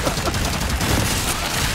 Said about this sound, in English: When I shoot you in the ass.